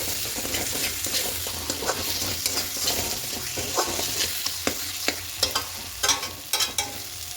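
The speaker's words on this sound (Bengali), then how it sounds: "এবার খুব ভালো করে কষিয়ে দেব।" Chicken chana masala sizzles in a pan after salt is added, with a constant frying hiss and a run of spatula scrapes and taps that grows more frequent toward the end.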